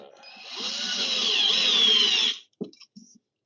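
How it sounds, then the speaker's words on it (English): A wood lathe spins as a carbide tool cuts into the turning wood, giving a steady rising whine for about two seconds, then the cut stops, leaving a few brief knocks and scrapes. "We'll find out when I just go in on the lathe here."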